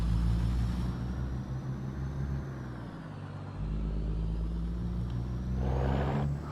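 A semi truck's diesel engine running steadily with a low, meaty rumble, a brief dip in the drone midway and a hiss near the end.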